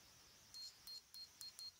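A multimeter set to diode test mode gives five short, clean electronic beeps in an uneven rhythm, close and fairly quiet, while probing transistors in a broken JVC A-10X amplifier.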